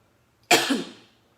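A single sharp cough bursts out nearby and trails off, with quiet before it.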